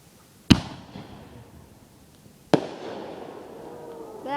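Backyard fireworks in Michigan give two sharp, loud explosive bangs about two seconds apart, each trailing off in a crackling, echoing decay.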